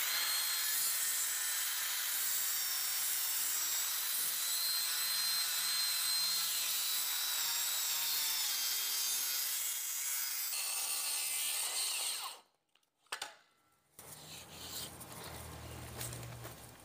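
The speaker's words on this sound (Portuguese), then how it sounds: "Agora eu vou inclinar a minha serra e vou fazer esse corte aqui com a serra em 45 graus." A hand saw tilted to 45 degrees cuts through wood for a miter joint in carpentry, a steady loud rasping stroke that runs continuously, stops abruptly, then gives way to quieter handling noise.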